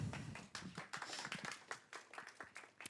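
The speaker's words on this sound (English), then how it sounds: "big round of applause for our first speaker today" Faint, scattered clapping from a small audience at a Python meetup welcoming the first speaker, with distinct individual claps in an uneven rhythm that stay quiet and distant throughout.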